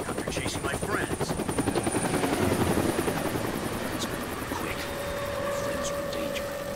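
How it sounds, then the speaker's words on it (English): Helicopter in the video game Deadlight, a steady rapid rotor chop with a droning engine whine, fairly close and continuous throughout, while someone talks over it. "Do I have to hide from the helicopter? That's the helicopter chasing my friends."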